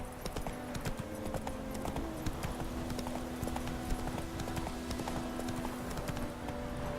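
A horse's hooves trot in The Witcher 3, a steady rhythmic clip-clop on the ground, close and continuous with no talking.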